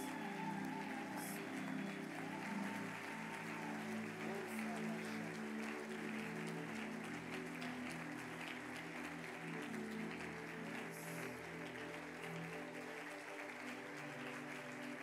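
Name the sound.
congregation applauding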